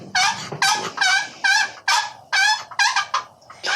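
A turkey hunting call worked to imitate a raspy old matron hen, giving a run of loud, close, harsh yelps in quick bursts with short gaps, alone with no talk.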